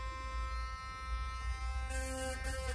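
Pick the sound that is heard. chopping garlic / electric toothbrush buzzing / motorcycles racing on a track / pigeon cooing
electric toothbrush buzzing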